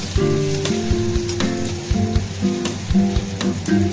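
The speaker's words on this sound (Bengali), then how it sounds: "পেঁয়াজটাকে একটু ফ্রাই করে দিলাম" Sliced onion frying in oil in a pan for a chicken recipe, with a loud, steady sizzle and repeated clinks and scrapes of stirring, and no voices.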